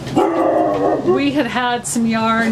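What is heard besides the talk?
dog barking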